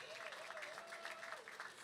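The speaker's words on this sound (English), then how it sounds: "Can we give her a round of applause," Applause at a national youth rally in Dominica, a dense patter of clapping from an audience, fairly distant and soft, with a faint tonal voice or sound running underneath.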